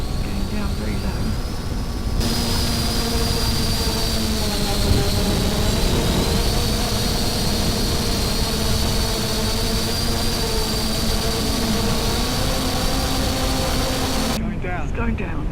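An MJX Bugs B6 drone descends low, its motors giving off a steady, loud, unbroken whine with sustained tonal hum throughout, as if heard near the craft.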